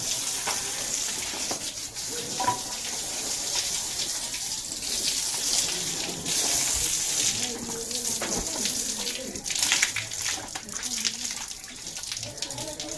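A village water tap runs in a rural Gujarat home, producing a continuous rushing splash of flowing water, with faint voices in the background.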